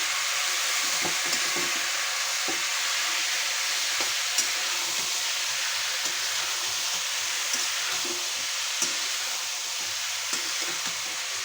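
Pieces of taro fry in a pan with a constant, close crackling sizzle, punctuated by occasional soft clicks from stirring, with no one speaking.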